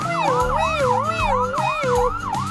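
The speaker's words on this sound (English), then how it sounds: "It sounds like a fire truck siren. It is a fire truck siren." A loud, wailing fire truck siren in a Roblox video game sweeps up and down repeatedly, close and continuous, with a low engine rumble beneath it.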